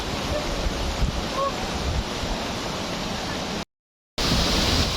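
Ditumabo Mother of Falls waterfall roaring as a steady, dense wash of falling water with wind buffeting the microphone, continuous and loud, with a brief dropout near the end.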